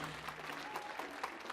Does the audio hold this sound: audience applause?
yes